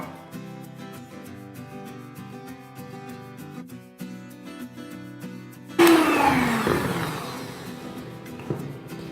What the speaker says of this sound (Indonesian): Masukkan kuning telurnya, mixer lagi hingga tercampur rata